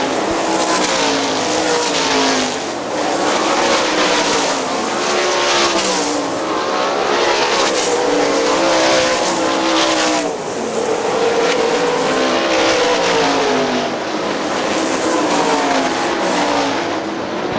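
Sprint race cars lapping Hartford Speedway Park in a GLOSS Sprints event, loud continuous engine roar with rising and falling revs as cars pass close by, nearly unbroken for the whole stretch, with no talk over it.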